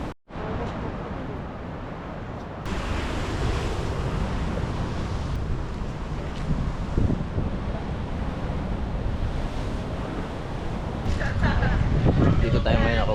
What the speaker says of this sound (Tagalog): Kaso ngayon, ang lakas ng alon.